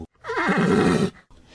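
A horse grazing in a pasture gives one loud, wavering whinny in an animated children's story, with no talk over it.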